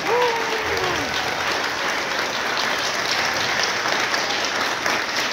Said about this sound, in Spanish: Un aplauso más fuerte para el Señor.